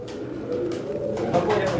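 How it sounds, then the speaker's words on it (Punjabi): Pigeons coo close by in low, throaty murmurs, mixed with people talking over them. "ਕਬੂਤਰੀ ਲਾਲ ਜੀ ਲਾਲ ਜੀ ਇਹਦੇ ਪਿੱਛੇ ਬੈਠੀ ਆ"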